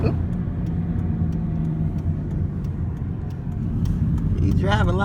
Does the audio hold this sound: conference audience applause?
no